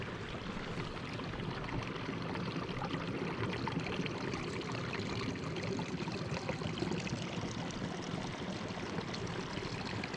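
Water pours steadily off a hillside in the Scottish wilderness, a constant broadband rush like a stream, faint and unbroken for the whole stretch with no voices.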